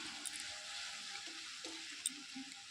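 Cumin, coriander and red chilli powder masala frying in a pan for Bengali Dim Bhapa, a steady soft sizzle that holds throughout with a few faint stirring clicks, no talk.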